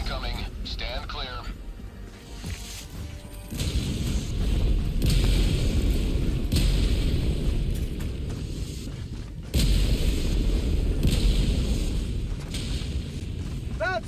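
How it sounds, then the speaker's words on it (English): Orbital barrage artillery strikes in a video game land as heavy, rumbling booms with sustained roaring bursts, two loud waves separated by a brief dip, under intermittent game voice lines. "Orbital barrage incoming. Stand clear."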